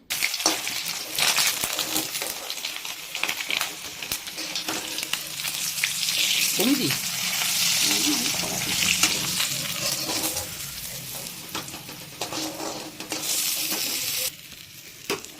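Pieces of catla fish fat fry in a pan, a loud continuous sizzle and crackle with stirring scrapes and clinks, close up, swelling and easing over the span.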